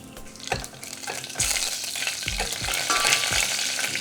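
Dry red chilli pieces temper in hot oil with mustard seeds and cumin. The sizzle is loud and close, with sharp popping crackles and stirring clatters, and it grows busier partway through. No one speaks.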